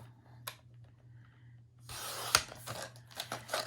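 A fabric section is cut with a crisp snip followed by a rough, rasping cutting sound and a few short rustles, close and fairly quiet.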